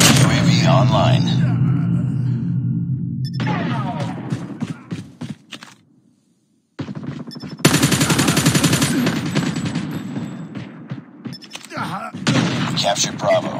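Razorback gun firing in Call of Duty, heard as loud sustained bursts of rapid automatic fire with a short silent gap midway, dense and continuous rather than isolated shots.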